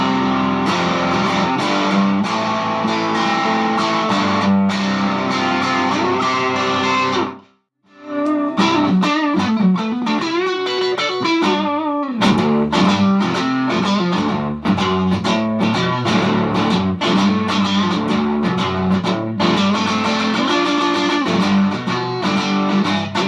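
Overdriven electric guitar through a Vox AC15 tube amp with a booster pedal plays thick distorted chords and riffs continuously, with one brief gap before the playing resumes, loud and close.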